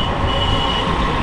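A Delhi Metro train near a station, a loud, steady rumble with a faint high whine on top, continuous and close, with no voices.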